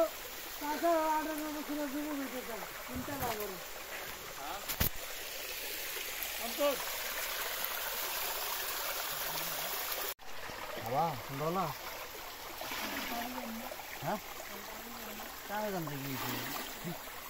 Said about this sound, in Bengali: খুব সুন্দর হয়ে ঝর্ণার পানিগুলো নিচে নেমে আসতেছে